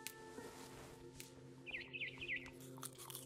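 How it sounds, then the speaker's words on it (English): Several short, high barn swallow chirps in a video game, in a quick run, standing out over a steady hum and low background noise. "Then I heard chirping outside my window. It was a barn swallow going back to her nest."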